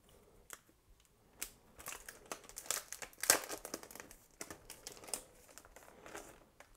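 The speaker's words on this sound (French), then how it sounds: "je vais déballer la carte de sauvegarde et la carte capitaine" Inazuma Eleven AC trading cards are unwrapped from their plastic packaging, with close, crisp crinkling and tearing rustles in irregular bursts, quiet overall with no talk.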